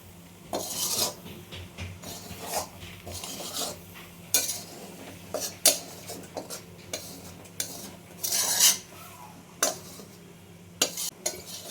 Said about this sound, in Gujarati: અને આપણે એકદમ માવો પીગળી જાય ત્યાં લગી મિક્સ કરતું જવાનું છે.